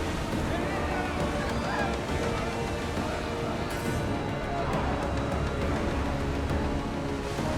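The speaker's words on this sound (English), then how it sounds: "These waves are scary." Ocean waves surge around a rowed warship at sea in Assassin's Creed Odyssey, a steady, dense roar of water and wind that fills the whole scene while voices carry beneath it.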